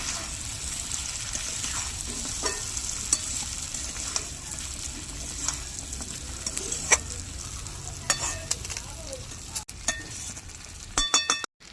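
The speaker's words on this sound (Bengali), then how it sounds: "কষানো মশলার মধ্যে দিয়ে দেব মশলার সাথে একটু নাড়াচাড়া করে নেব আস্তে আস্তে" Fried koi fish being stirred slowly into a cooked spice paste in a pan, with steady frying sizzle, soft scraping strokes and a few metallic clinks of the spoon against the pot near the end.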